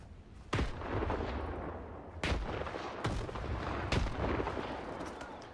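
Several heavy grenade blasts go off in the Stalker 2 video game, with four sharp booming detonations spaced a second or so apart, ringing out over a dense, rumbling background.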